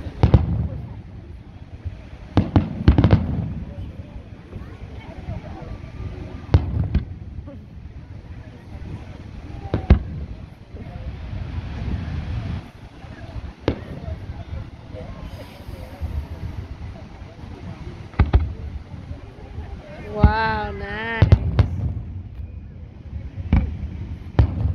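Fourth of July fireworks over Redondo Beach, repeated booms and crackles at irregular intervals heard from a distance, with a whistling rocket rising near the end and people chatting in the background.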